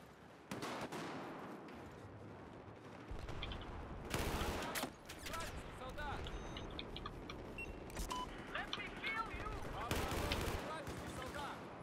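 Gunfire in Battlefield 4 on the Operation Locker map crackles in dense automatic bursts, loud and close, interrupted by sharper cracks and impacts, with players talking over it.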